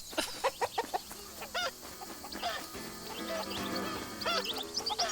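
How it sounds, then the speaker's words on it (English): Chickens cluck and squawk in a game about saving a wildlife reserve, several short close calls in irregular bursts over a steady soft background. "Alright, some chickens."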